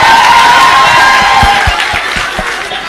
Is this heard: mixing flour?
no